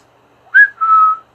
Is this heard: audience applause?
no